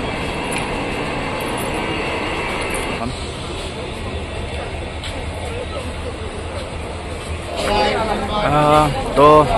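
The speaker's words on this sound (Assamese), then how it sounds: "4 নম্বৰ প্লেটফৰ্মত সোমালে ট্ৰেইন" Nagaland Express train rolling into a platform at Lumding Junction at night, a steady low rumble of wheels and carriages with a rising louder clatter near the end, voices faintly mixed in.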